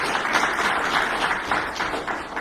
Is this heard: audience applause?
yes